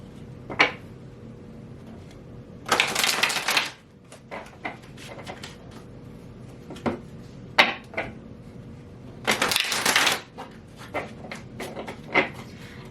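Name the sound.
shuffling tarot cards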